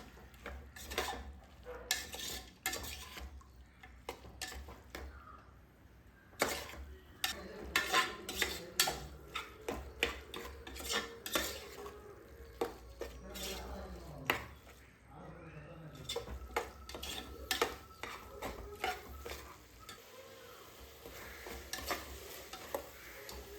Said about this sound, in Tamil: நம்ம வதக்கியே பேஸ்ட் பண்ணிக்கலாம்.